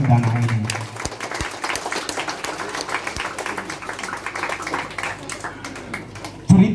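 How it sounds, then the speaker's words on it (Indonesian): Audience applause for the first graduating class at a school history event on Ile Boleng, a steady broadband patter of many hands lasting several seconds under a murmur of voices, with a few sharp taps and a louder burst at the end. "Kita tepuk tangan untuk angkatan perdana ini."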